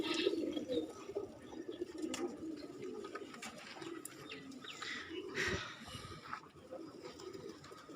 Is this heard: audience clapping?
no